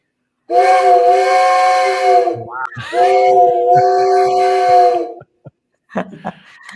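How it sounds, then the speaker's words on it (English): An old tin train whistle blows twice in long, loud, chord-like wails, the second blast ending abruptly, followed by brief hissing and a short voice. "we'll do a cool old train tin whistle here"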